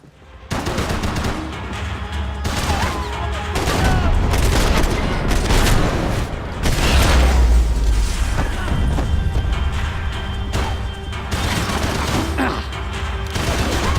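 Nonstop gunfire in a Max Payne 3 shootout at Police HQ: dense volleys of rapid shots, bursts and heavy booms pile onto each other at close range, loud and continuous for the whole stretch.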